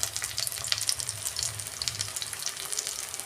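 Spices including chilli powder fry in a pan for prawn malai curry, producing a crackling sizzle with light stirring scrapes, close and moderately quiet, with no voices.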